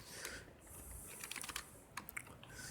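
Computer keyboard typing as data is entered into a PowerPoint slide, a quick run of light clicky keystrokes in irregular bursts, close but fairly quiet, with no talking.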